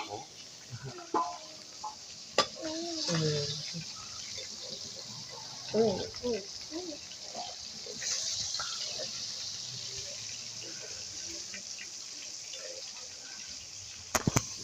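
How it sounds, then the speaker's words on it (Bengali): A bata fish fries in a pan over medium heat with a steady, soft sizzling hiss throughout, while a person talks over it and a few sharp clicks sound at the end. "খুব সুন্দর বাজি হচ্ছে মিডিয়াম জালে মাছটা ভাজা হইতেছে"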